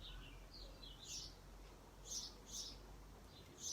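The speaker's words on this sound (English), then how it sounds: "All these birds chirping away happily." Birds chirping outdoors during a calm morning practice session, a few short high tweets arriving in small bursts at a moderate distance over a low steady background hum.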